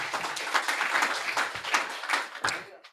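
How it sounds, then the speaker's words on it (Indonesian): Church congregation applauding during a sermon, a dense wash of clapping filling the room for about three seconds before it cuts off abruptly. "Tepuk tangan bagi Roh Kudus."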